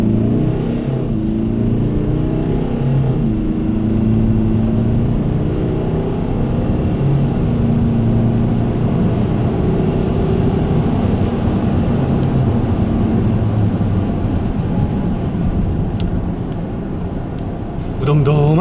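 A car carrying four people accelerates slowly in comfort mode to about 70, its engine droning steadily inside the cabin under continuous talk, with no sharp surge in pitch.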